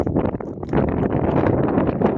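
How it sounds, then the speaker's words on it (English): Steady wind roars and buffets the microphone throughout, loud and gusty with no other clear sounds, while out riding TW200 motorcycles in the Black Hills. "It's kind of windy"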